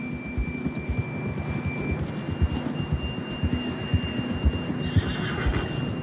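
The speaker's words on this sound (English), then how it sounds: "John was riding that horse when we left Blackwater" A horse whinnies in Red Dead Redemption 2 amid steady hoofbeats and ambient hum, with a faint tonal whine running through; no one speaks.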